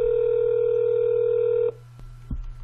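A steady telephone dial tone plays loudly for over a second, then cuts off to quiet line noise with a faint click and thump as a call is placed.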